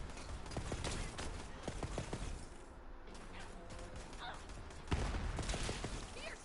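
Gunfire in a video game: a flurry of sharp shots in the opening seconds, then a heavier burst near the end over a dense, busy backdrop of game noise.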